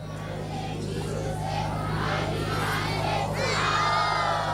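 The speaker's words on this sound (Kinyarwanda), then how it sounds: "mbasabe mumfashe tubakire n'amashyi n'impundu" Crowd at an outdoor International Mother Language Day celebration in Kirehe, Rwanda, clapping and ululating in welcome, a steady dense roar of applause with high trilling voices rising over a constant low hum throughout.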